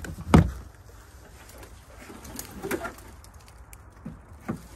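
A pigeon coos a few times at a pony park, with soft rustling and a sharp knock near the start, faint background noise, and nobody talking.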